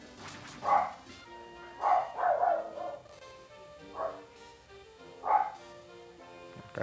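Dog-like Pokémon cry in the video game Pokémon Emerald: several short, bright barking yelps spaced a second or so apart over soft background game music.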